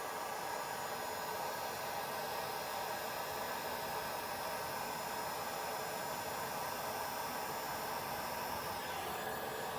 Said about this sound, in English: I might actually, I might get the heat gun and just try